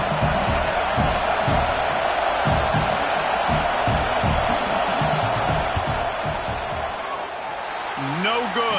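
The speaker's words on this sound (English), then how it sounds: "This crowd trying to do its part to get inside the kicker's head." Video-game stadium crowd in a Madden football match rumbles loudly and steadily as a field goal unit lines up, with rhythmic pulses of noise from the stands and a brief electronic tone near the end.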